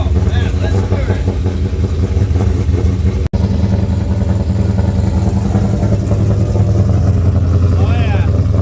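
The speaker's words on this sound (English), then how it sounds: "that's not an LS. That's a Japanese V8" A swapped-in Nissan VK56 Japanese V8 runs after sitting all winter, a loud, steady, deep idle rumble close by, with a single sharp click partway through. Voices talk over the engine.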